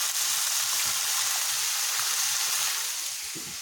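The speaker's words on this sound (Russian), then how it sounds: "Вот сейчас жарится" Fish and onion fry in a pan with a steady, close hiss and sizzle that fades slightly toward the end.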